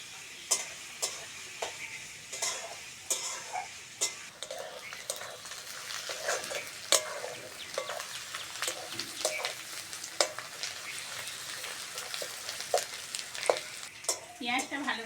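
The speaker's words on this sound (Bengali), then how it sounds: "পেঁয়াজটাকে ভালো করে ভেজে নেব।" Onions fry in a pan for a chicken curry, with a steady sizzle and spoon scrapes stirring them at a regular rhythm, close by and without any talk.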